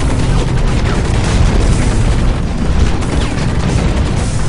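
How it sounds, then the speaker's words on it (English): Heavy gunfire fills the Hawken mech shooter match, with dense, loud, continuous bursts and booming impacts hitting the player for several seconds and no talking over it. "Stop shooting me."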